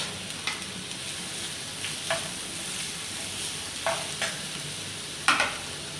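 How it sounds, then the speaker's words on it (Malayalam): Onions, green chillies and ginger garlic paste frying in a little hot oil for a masala filling, with a steady close sizzle broken by a few scraping stirs of a spoon in the pan. "സവോള വഴറ്റിക്കൊണ്ടിരിക്കുകയാണ്."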